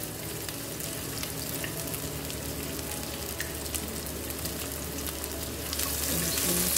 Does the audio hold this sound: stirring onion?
yes